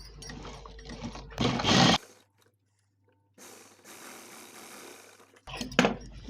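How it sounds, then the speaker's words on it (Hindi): A sewing machine stitches the side seams of a plain blouse, two loud close bursts of rapid mechanical whirring separated by a quiet pause and softer rustling of fabric. "सीधे से सीधा मिला के एकदम ये किनारी बराबर करते हुए इसको सिल लेंगे एकदम बराबर"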